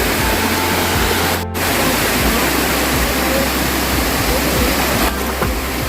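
Busay Falls roars steadily and loudly up close, a dense continuous rush of falling water that fills the whole scene.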